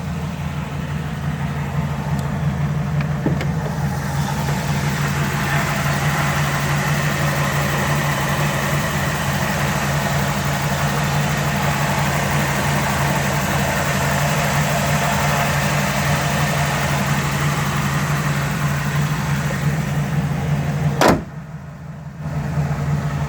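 A 1948 Ford Roadster's engine idles steadily for a long stretch, a close, even low rumble with light mechanical clatter, then a sharp click and a brief drop near the end.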